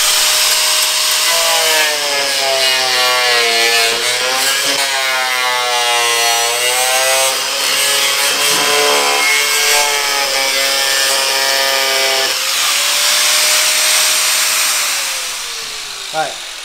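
A power saw cuts through a car bumper in a loud, continuous, whining buzz whose pitch rises and falls as the blade bites, then eases to a steadier drone before stopping.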